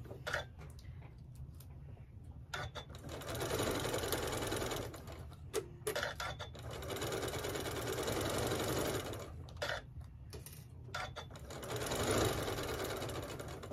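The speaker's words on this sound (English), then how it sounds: "So we're ready to start sewing. So we're gonna just sew our top piece." A sewing machine stitching pinned pinwheel pieces for a prairie point baby quilt at a quarter-inch seam, running in steady loud bursts with brief pauses between them.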